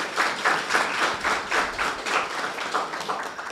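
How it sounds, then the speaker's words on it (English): Audience at a secondary schools debating competition applauds steadily, dense clapping from many hands at moderate distance, continuous for the whole stretch. "give them a round of applause"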